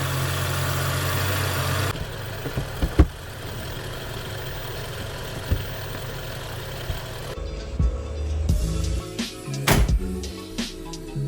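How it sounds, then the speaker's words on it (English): A BMW 435i engine idles steadily right after a cold start following an oil change, a loud, continuous mid-to-low hum heard nearby, with a few faint clicks and knocks from work around the car. "That cold start."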